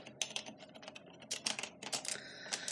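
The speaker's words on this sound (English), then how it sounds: "I will learn to type the password." Steady, fairly close keystrokes as a password is typed on a computer keyboard at a Windows NT 3.51 login, the clicks coming in quick clusters with brief gaps between them, with no talking.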